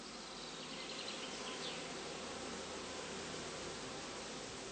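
Honeybees buzz around heather skeps in an apiary during cast swarming, with a dense, continuous hum of many insects that stays even and fairly distant throughout.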